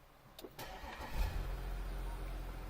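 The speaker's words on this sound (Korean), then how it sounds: "일단 지금 시동을 걸어봤는데 디젤 차량이잖아요" Audi A7 55 TDI quattro diesel engine cranking and catching, with a starter whir and brief clicks, then settling into a steady low idle rumble, heard from inside the car.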